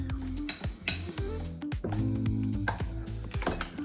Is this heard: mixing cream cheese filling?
yes